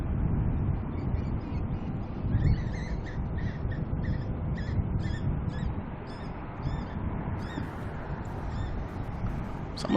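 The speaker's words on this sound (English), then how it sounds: "Not sure what birds those are where, but definitely something's out there making some noise." Unidentified birds call outdoors beside an airport, their repeated chirps and caws scattered over a steady low rumble of distant aircraft and wind.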